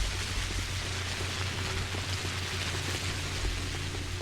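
Rain falling in the video game Pathologic, a dense steady hiss of rainfall on surfaces, constant and fairly loud throughout with a faint low hum beneath and no talking.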